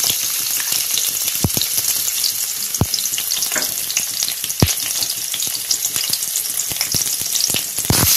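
Ginger, garlic and green chillies fry loudly in a pan with a constant crackling sizzle, spattering pops, and several sharp knocks and scrapes of a spoon against the pan, close and steady throughout.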